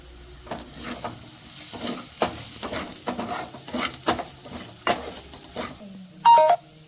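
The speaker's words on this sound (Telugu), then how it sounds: "ఇవన్నీ మనం ఒకసారి ఆయిల్లో వేయించుకుందాం. అదే ఏదైతే ఉల్లిపాయలు వేసి ఆయిల్ ఉందో అందులో వేయించుకుందాం." Spices and onions fry in oil in a pan, stirred with repeated scraping and clinking of a utensil over a steady sizzle, close and fairly loud, ending in a short electronic beep.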